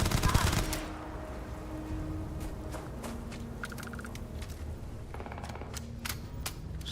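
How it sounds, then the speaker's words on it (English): Turrets shooting in Starfield, a loud burst at the start followed by scattered sharp rapid shots and clicks at a distance, over a low background hum. "Just gonna let those turrets shoot those other people"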